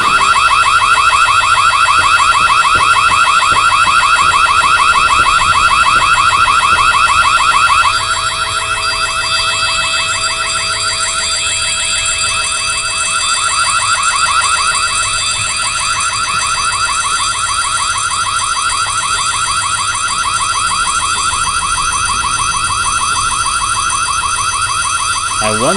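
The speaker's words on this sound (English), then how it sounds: "So obviously this alarm's going off" A loud, continuous electronic alarm wails in the school of the WhiteDay horror game, a piercing warbling tone that runs without a break, slightly quieter after the first few seconds.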